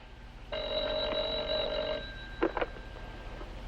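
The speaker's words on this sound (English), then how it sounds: "Your phone's ringing." Old-fashioned telephone bell ringing steadily for about a second and a half in a quiet room, followed by a couple of brief clicks as the receiver is lifted.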